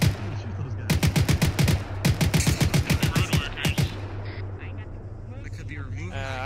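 Rapid automatic gunfire in Arma 3 rattles in two loud, fast bursts of closely spaced shots, then fades to background noise with a voice speaking at the end.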